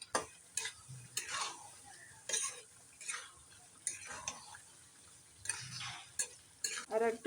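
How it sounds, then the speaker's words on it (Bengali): Spoon stirring a thick achar spice paste of dried chilli powder, spice blend and lemon juice in a pan, giving repeated scraping, clinking strokes in short bursts with pauses, close and moderately loud. "এখন একটু ঘন ঘন নাড়া লাগবে"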